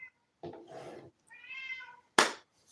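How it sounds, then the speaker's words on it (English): An orange cat meows loudly and insistently, two drawn-out calls separated by a short pause, followed by a sharp knock or clap, recorded close up indoors. "we're going to have Orange Cat because he just won't shut up"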